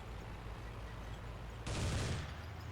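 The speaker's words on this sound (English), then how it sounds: "fire with the turret machine gun" A tank's turret-mounted machine gun fires in the Eve of Destruction game, apparently an M60 tank, with a sudden loud, dense burst that starts partway in and runs to the end over a steady low engine rumble.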